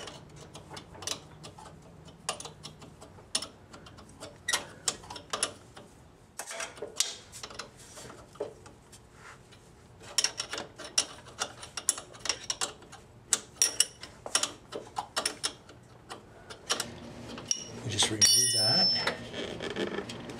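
A wrench draws an axle seal into place with a steady series of short metallic clicks and ratcheting ticks, close up, with a brief louder rattling burst near the end and a faint voice in the background.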